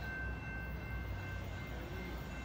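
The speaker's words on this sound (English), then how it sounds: "The next inbound Metro train to Chicago is now arriving in your station." An inbound Metra commuter train rumbles into a station at Riverside, Illinois, a low, steady, fairly distant roll with a faint sustained tone above it and no voices.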